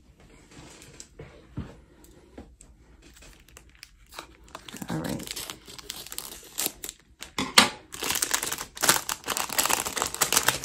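Packaging is torn open and crinkled during an unboxing of an Amazon haul, with irregular ripping and crumpling bursts that grow louder and denser toward the end; a voice speaks briefly.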